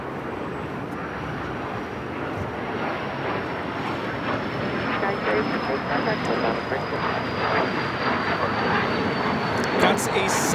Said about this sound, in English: That's a Cessna Citation CJ2 taking off to Salt Lake City